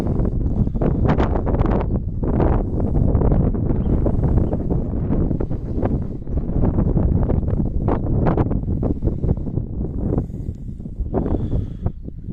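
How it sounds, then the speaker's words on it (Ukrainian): Strong wind buffets the microphone throughout over a garlic garden after a week of frost, a continuous loud roar with gusty surges and no other clear sounds. "сьогодні рве такий вітер"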